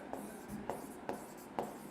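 Chalk or marker strokes on a board during a chemistry lecture on surface chemistry, four short scratchy strokes at a steady pace, close and quiet, with no talking over them.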